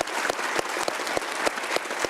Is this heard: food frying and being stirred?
no